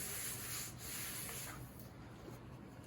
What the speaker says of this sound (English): I'm going to close my book right on top of this and kind of press hard and rub around it.